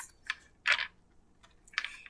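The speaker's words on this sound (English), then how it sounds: "Shuffling these cards" Tarot cards are shuffled in a few quick crisp riffles and snaps, close and alone, with short pauses between bursts.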